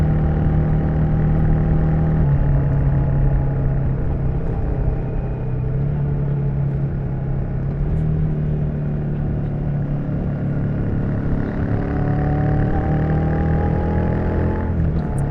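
A Royal Enfield Shotgun 650 motorcycle on the move, its twin engine giving a steady, loud, close mid-pitched drone with slight shifts in pitch as the revs change, and no talking.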